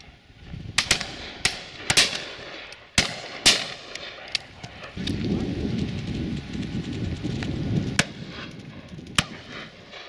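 Shotguns firing at a driven pheasant and partridge shoot outdoors, several sharp, loud cracks spaced irregularly and some echoing, with wind and rustling between shots.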